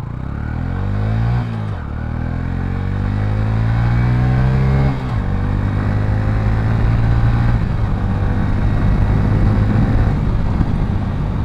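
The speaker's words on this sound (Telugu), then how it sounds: "ఒకసారి పెర్ఫార్మెన్స్ చెక్ చేద్దాం. ఫస్ట్ గేర్ వేసాను." A Honda CB 125 Hornet motorcycle pulls away in first gear, its engine revving up in rising sweeps with a brief drop near two seconds and again at five, loud and close throughout.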